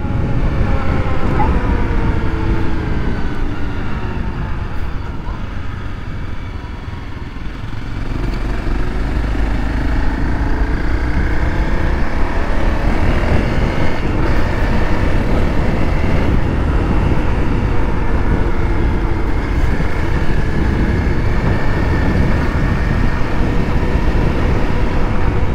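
A 2013 Honda CRF250L on a test ride produces a loud, continuous single-cylinder engine drone mixed with wind rush. The note dips briefly near the start, then holds steady and close throughout.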